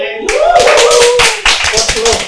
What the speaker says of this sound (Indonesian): Kok ada tepuk tangan?